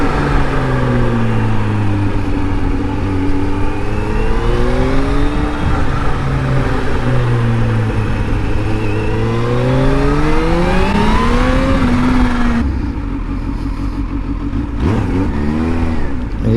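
A supercharged Kawasaki Z H2 naked motorcycle is ridden, its engine loud and close as it revs up and down through repeated rising and falling sweeps, then drops briefly before picking up again.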